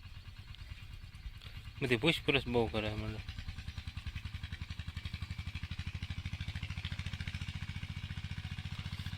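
An unusual farm tractor idling nearby, a steady low rhythmic engine chug throughout, briefly under a voice talking near the start.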